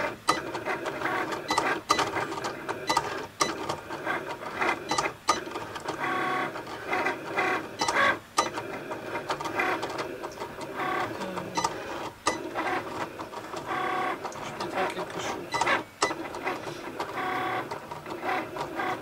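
A LOKLIK cutting machine running through a job, a continuous mechanical whir with rhythmic clicking and ratcheting pulses as the carriage moves back and forth, close and steady for the whole stretch.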